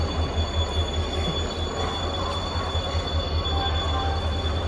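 A small train pulls into Bhavnagar railway station, giving a steady low rumble with a squealing tone from the wheels, close and continuous, with no voices.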